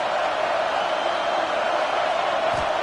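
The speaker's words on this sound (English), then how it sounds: "Fourth down, and this crowd is making it miserable on this offense." A stadium crowd in College Football 26 roars in a steady, dense wash of noise, loud and unbroken, on a fourth-down play.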